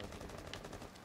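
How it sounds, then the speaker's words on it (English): Rapid gunfire in the tactical shooter Rainbow Six Siege comes as a quick, faint burst of repeated shots under game noise. "I shot him, he's dead."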